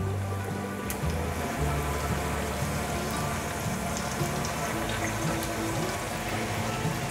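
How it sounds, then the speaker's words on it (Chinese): Wontons frying slowly in a pan until golden make a continuous crackling sizzle, close and even, with scattered sharper pops over a low background hum. "把馄饨放进来， 放下来，慢慢的煎"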